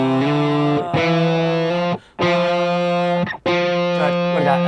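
A distorted electric guitar sustains bright, buzzing notes, struck again at steady intervals with short gaps between, loud and alone without talk.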